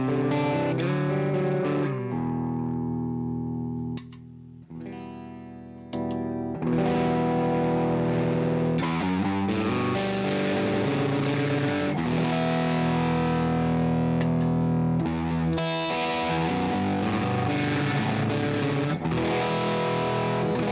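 Electric guitar played through a Mjolnir overdrive pedal with the guitar volume at about 2 or 3, giving a sustained, crunchy driven tone with chords and ringing notes over about twenty seconds, briefly dipping quieter near the start.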